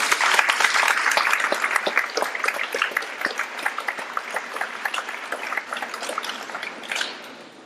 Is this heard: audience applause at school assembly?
yes